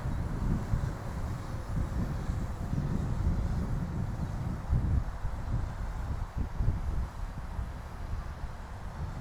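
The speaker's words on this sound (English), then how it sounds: "Wind is kicking here, folks." Steady wind roars and buffets outdoors during a low drone flight about eleven feet up, a continuous broadband rush with no voices.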